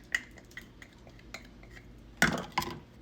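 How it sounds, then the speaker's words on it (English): A spoon scrapes and clinks against a bowl while mixing biscuit crumbs with Biscoff cookie butter and caramel. Quiet, sparse taps build to two sharper knocks near the end. "Now we're going to mix this really well."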